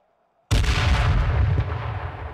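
A grenade blast in a battle royale game erupts suddenly after a brief quiet, a loud close boom with a heavy low-end thump that rolls and decays over the following two seconds.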